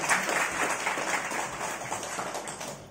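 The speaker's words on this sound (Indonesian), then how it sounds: "Tepuk tangan dulu." An audience at an anniversary celebration of a Dayak cultural community in Landak bursts into dense, continuous applause, many hands clapping together, loud and close throughout with no break.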